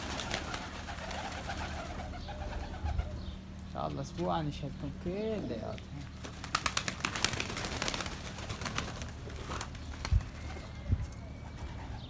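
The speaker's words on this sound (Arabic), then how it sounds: "شنو هاي الطيور؟" Pigeons in a backyard bird enclosure give soft low coos under someone talking nearby, with scattered wing flutters and small knocks.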